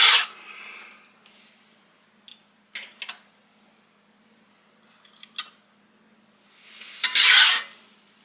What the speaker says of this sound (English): Now we're going to do a layer of our meat mixture.